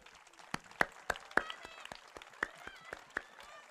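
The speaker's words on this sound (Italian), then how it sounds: "un applauso per i fratelli Piga!" Scattered applause at a stage event, a thin sparse run of individual claps with uneven rhythm from a small audience, moderately close and not very loud.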